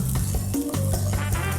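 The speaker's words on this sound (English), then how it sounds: "Our onion is caramelizing" Onion caramelizing in a pan for tomato bread soup, giving off a dense, steady sizzle with a low crackling hiss and faint stirring scrapes, close and continuous.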